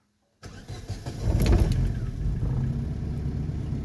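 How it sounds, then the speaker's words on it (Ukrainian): A 2005 Daewoo Lanos SE T150 running on gas cranks briefly and fires up, its engine catching and settling into a steady, fairly loud idle close by, heard alone after a moment of silence. "Тобто завелася машина на газу."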